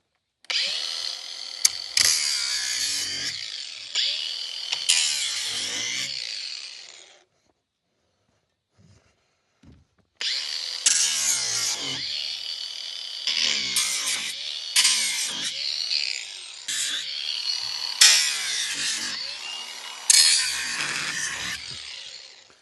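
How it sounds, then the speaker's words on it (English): An angle grinder cuts through the metal brackets of a shipping crate while a farm mower is unboxed: loud, close, whining bursts of cutting, broken by a silent gap of a few seconds before grinding resumes. "The grind is heaps easier for these brackets than trying to pull all the nails out."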